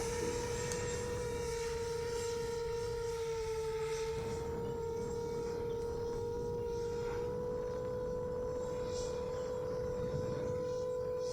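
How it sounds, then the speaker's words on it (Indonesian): Drone built on a Raja Wali Volt 7 frame flying toward Mount Sindoro, a steady high-pitched motor whine with strong sustained tones, loud and continuous throughout. "Arming and take off."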